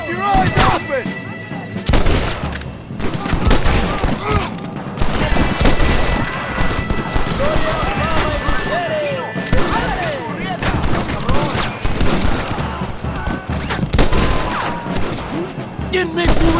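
Loud, dense gunfire in the video game Red Dead Redemption, rapid overlapping shots and booms filling the whole stretch, with shouting voices mixed in among the firing.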